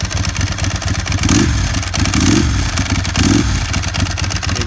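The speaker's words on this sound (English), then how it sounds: "That is a typical Ducati dry clutch." Ducati 996 motorcycle idling up close with a loud, steady dry-clutch rattle and clatter, its engine revved in three short blips that rise and fall.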